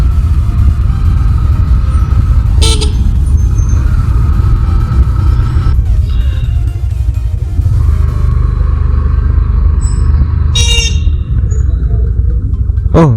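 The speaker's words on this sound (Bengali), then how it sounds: "আজকে কোনো বাস নেই, রাস্তায় শুধু রিক্সার রাজত্ব।" Street traffic during a lockdown with only rickshaws on the road and no buses: a loud, steady low rumble of wheels and engines, with a couple of brief horn or bell blips.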